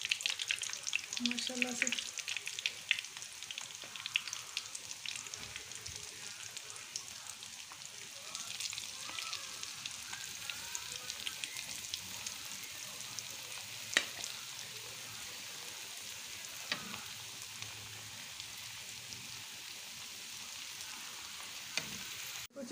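Beef chaap pieces drop one by one into hot oil and fry with a continuous soft sizzle and crackle, fairly quiet and steady, with occasional clinks and a brief spoken phrase.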